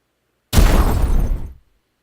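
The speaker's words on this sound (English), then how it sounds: "There's a lot of explosions." A single loud, close video game explosion bursts suddenly and rumbles broadly for about a second before cutting off into silence.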